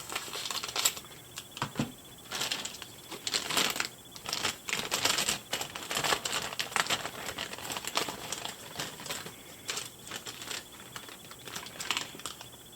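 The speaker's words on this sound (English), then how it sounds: "So cut open our bag here." A plastic doll packaging bag is cut open and handled, giving a steady stream of close crinkling and light snipping rustles with small clicks, fairly quiet and without speech.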